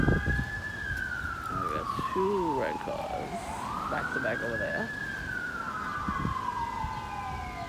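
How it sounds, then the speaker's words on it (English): Emergency vehicle sirens wail from a passing vehicle, the tone sweeping slowly up and down in long loud cycles over road traffic, while someone talks close by beneath it. "And now we got the sirens."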